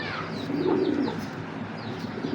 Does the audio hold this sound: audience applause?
no